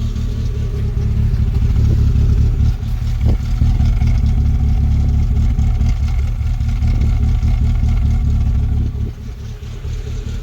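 A Rover 25 GTI with a breakdown fault runs at a high, rough idle while over-fuelling, a loud, close, continuous engine drone with uneven clattering pulses that dips slightly near the end, no talk.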